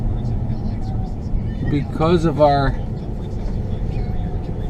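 Steady low road rumble from inside a moving car, with a person speaking briefly over the engine and tire drone midway through.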